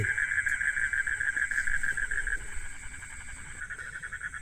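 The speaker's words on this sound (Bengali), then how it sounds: "চারিদিকে ঝিঝি পোকার ডাক।" Steady, high-pitched cricket chirping fills a quiet night on the bank of the Mahananda River, continuous and even, with a faint low hum beneath.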